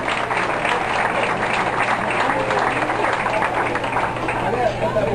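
Audience applause at a bar-restaurant's 25th anniversary celebration, a steady dense roar of clapping and crowd noise filling the room, loud and continuous throughout with voices mixed in.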